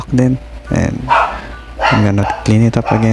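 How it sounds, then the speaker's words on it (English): A dog barks repeatedly in the background, with short, loud barks coming in bursts while someone talks over them close to the microphone. "I'm sorry for my dog barking in the background."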